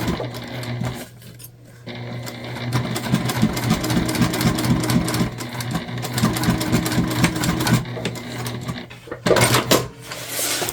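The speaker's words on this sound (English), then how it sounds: "we are going to sew our side seams" A sewing machine stitches the side seams of a tote bag in close, rapid mechanical bursts, with short pauses between runs of stitching.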